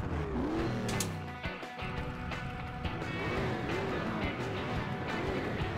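A buggy car in the Beach Buggy Racing video game drives with a steady, loud engine drone and shifting pitch for about six seconds, broken by a brief dip near the start.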